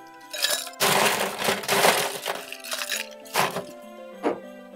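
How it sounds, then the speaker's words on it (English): Ice cubes clatter and clink into a cocktail shaker glass in several bursts, close and loud, with a rattling pour followed by a few separate cubes dropping in. "Let's fill our shaker glass with ice."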